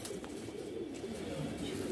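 Madrasi pigeons, red-footed and sleek-bodied, give a low, soft cooing that murmurs steadily at close range under a faint background hum.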